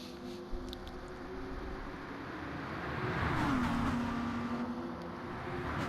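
Lamborghini race cars in a touring car championship race sweep past, their engine note swelling as they approach, a clear pitch drop as one goes by, then fading, with steady distant roar underneath.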